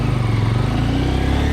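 A Honda Grom motorcycle on a ride over snowy, icy roads, its small engine droning steadily and close with a slight pulsing throb, no voices.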